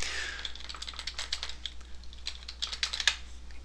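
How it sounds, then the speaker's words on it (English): Fingers tap out a command on a computer keyboard, a quick, uneven run of close keystrokes with short pauses and a sharper press near the end, the sound of installing a Ruby gem at a Windows command prompt. "So get to your command prompt and type gem. Install Ruby debug IDE."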